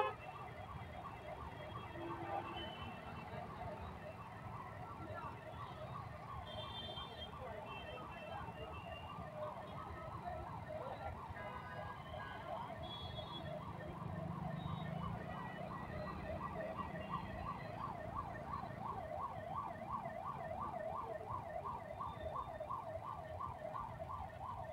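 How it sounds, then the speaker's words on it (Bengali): An ambulance siren wails in a steady, repeating up-and-down cycle, held up in a traffic jam on a busy road in Silchar; it sounds somewhat distant and continues without pause, with faint traffic rumble beneath. "একটি অ্যাম্বুলেন্স অনেক সময় ধরে wow wow wow wow sound করছে"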